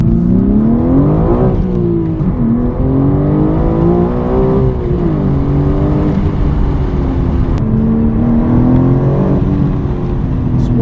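A manual BMW M4 G82 engine drones loudly up close, rising and falling in pitch as it revs and eases off, with faint burbling through the exhaust on the overrun.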